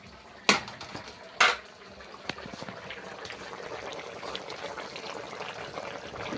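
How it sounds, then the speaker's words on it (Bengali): A snakehead fish curry with potato and tomato bubbles in a pot, a soft continuous simmer, with two sharp clanks of a utensil against the pot near the start. "শোল মাছ আলু টমেটো দিয়ে তরকারিটা কিন্তু হয়ে গিয়েছে প্রায় ফুটে উঠেছে কিন্তু গম গম করে তরকারিটা ফুটছে"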